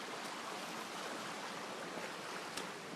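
A stream flows along a nature hiking trail, a soft, steady rush of water with no voices over it, faint and continuous.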